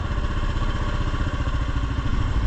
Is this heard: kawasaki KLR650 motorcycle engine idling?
yes